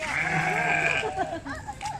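Sheep with dull, off-white wool bleat at a sheep and peacock garden in Sam Phran near Bangkok, a drawn-out bleat up close followed by softer shorter calls, with a person talking nearby.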